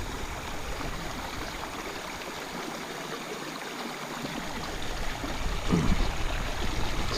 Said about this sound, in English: this water moving quick and fast over the slippery rocks